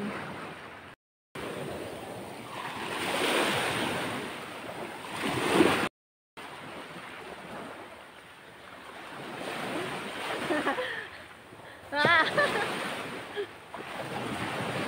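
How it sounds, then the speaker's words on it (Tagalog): Ocean surf rolling in at high tide along the shore at Mantuyok, broad washing waves rising and falling close by, with wind buffeting the microphone and two brief dropouts. "So yan, high tide dito."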